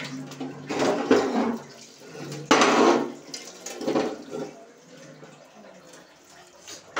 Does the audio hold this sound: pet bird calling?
no